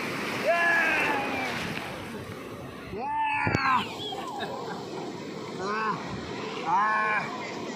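Sea waves surge and wash onto a beach at Bakkhali, with a steady roar of surf and wind noise on the microphone, while excited voices shout and talk over it throughout.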